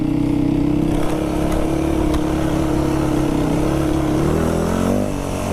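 A Yamaha WR450F dirt bike engine drones steadily at a held rev while riding off-road on moorland, then climbs in pitch near the end, loud and close.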